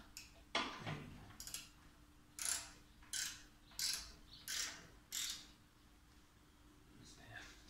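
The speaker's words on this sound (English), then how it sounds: "put my ratchet in there, find the hole, find the nut." A ratchet tightens a nut on a heat shield fitted to a Charnwood stove, first with a metallic clunk, then a series of rhythmic clicking pulls about every half second, close and clear against a quiet room.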